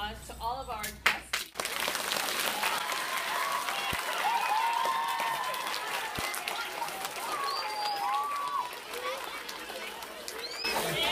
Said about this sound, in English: Give another round of applause to all of our guest